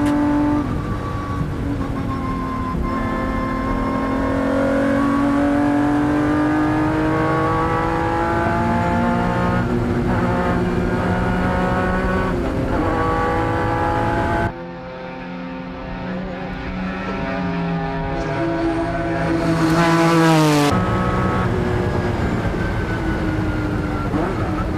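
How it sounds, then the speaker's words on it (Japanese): Onboard at the 1994 Le Mans race, a Honda NSX race car engine howls loud and close, its pitch rising through the revs and dropping at each gear change over a constant wind and road roar. "マシンは1コーナーをクリアしてダンロップブリッジ下を通過"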